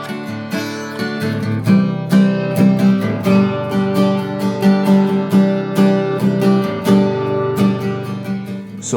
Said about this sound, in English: Now compare that to the steel string tone, which is brighter, punchier